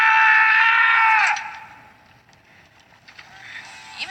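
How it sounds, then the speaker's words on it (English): An actor's real scream of pain in a film scene after breaking two toes, a loud, strained cry held for about a second before fading into quieter background noise. "that scream heard in the finished film is very real"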